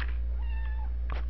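A house cat gives a single short, close meow over a steady low hum, with no talk.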